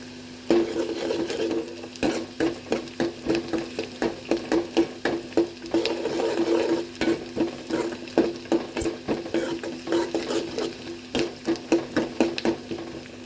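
Onions and four dried red chillies sautéing in a pan, a gentle sizzle under quick, rhythmic spoon scrapes and taps against the metal, close and steady with no speech.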